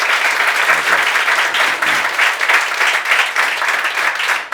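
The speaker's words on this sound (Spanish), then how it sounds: "Les pido un aplauso para Antonio y recibirlo." An audience at a 2018 forum on Venezuela's democratic reconstruction welcomes a speaker with loud, sustained applause, a close and steady roar of many hands clapping from start to finish.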